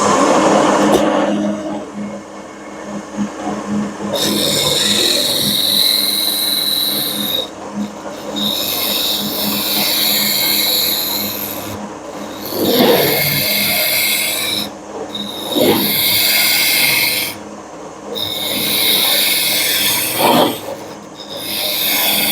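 A woodturning skew chisel cuts a bead on a lathe, giving loud, sharp high scraping and shaving bursts in repeated passes, separated by brief pauses while the lathe hums underneath.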